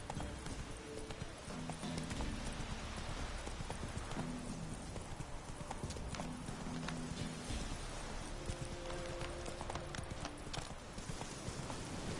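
Horse hooves clip-clop in a steady walking rhythm in The Witcher 3 video game, continuous and fairly close, with soft game ambience underneath and no talk.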